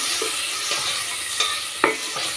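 Tomatoes sautéing with onion and garlic in a pan for a village-style fried kuzhambu give off a steady bright sizzle, broken by a few soft scraping stirs.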